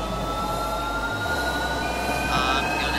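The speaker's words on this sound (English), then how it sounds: "This is one of the fastest trains in the game." A very fast train in a realistic train video game rumbles steadily with a low engine drone and high tonal whines, running continuously with no talk over it.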